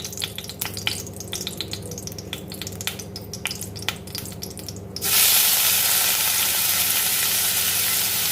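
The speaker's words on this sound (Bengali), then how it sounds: "তেল গরম হলেই পেঁয়াজ বাটাটা দেব, গ্রেটেড অনিয়ন্সটা।" Grated onion paste hits hot oil in a wok and bursts into a loud, continuous, close sizzle that fills the last few seconds, after a stretch of light clicking and stirring.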